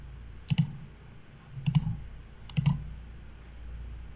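Three crisp computer mouse clicks, evenly spaced about a second apart, close and distinct against a quiet room while working in PowerPoint.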